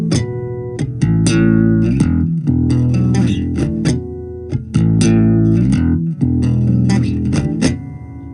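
A bass guitar sounds bright ringing harmonics mixed with low plucked notes in a repeating rhythmic pattern. It is loud and close, with no talking.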